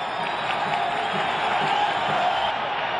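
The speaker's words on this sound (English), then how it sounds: "these fans start applauding again" A large baseball stadium crowd roars and applauds steadily through a seventh inning, a dense continuous wash of clapping and cheering from many fans spread wide and distant, with no pauses.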